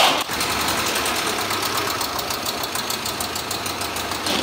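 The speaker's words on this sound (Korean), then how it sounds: "이거는 사기통 엔진이네?" Kia Morning four-cylinder LPI engine with about 320,000 km and a suspected injector fault, running close with a steady, rattly idle and rapid knocking ticks throughout, no talk.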